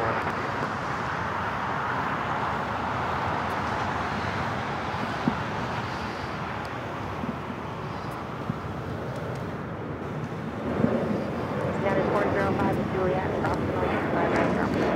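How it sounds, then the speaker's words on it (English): A United Boeing 757-300 jet on its takeoff run at Los Angeles International Airport, a steady broad engine roar heard from a distance with wind, while a voice talks over it throughout. "757-300, the flight heading to Chicago O'Hare, flight 2113, and next takeoff here on the south side"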